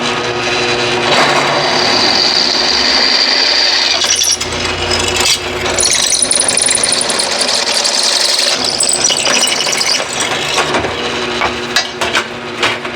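A drill press fitted with a 1/8 inch bit drills small holes in a welding repair job, a steady loud mechanical whir with grinding and rubbing texture running continuously, swelling briefly in the middle, with no talk.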